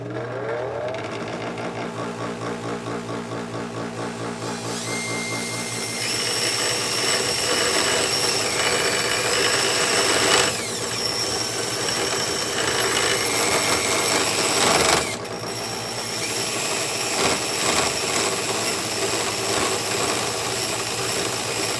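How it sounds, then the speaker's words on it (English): A bench grinder and a drill spin against each other in opposite directions, making a loud, steady mechanical whine. The whine rises and shifts in pitch, with harsher grinding contact in the middle stretch and no speech. "The grinder is going to be running one direction, and the drill is going to be running the other."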